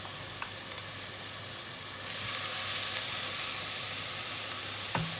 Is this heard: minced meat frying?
yes